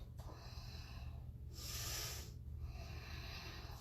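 Heavy breathing during a power yoga session: a strong, airy exhale swells mid-clip, bracketed by softer breaths over low background hum, with no talking.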